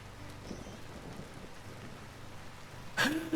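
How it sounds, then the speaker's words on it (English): Rain with a low rumble of thunder in the survival game Vintage Story, then a sudden sharp squeal from a scared boar at the end, loud over the quieter storm bed. "The sound of the boar being scared plus thunder at the same time made me think a bear was about to kill me."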